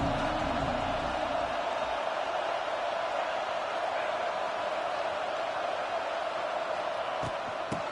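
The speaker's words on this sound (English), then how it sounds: "This crowd ready to make its presence known." Stadium crowd at a Buckeyes football game, a steady broad roar of many voices holding at an even level throughout, fairly distant.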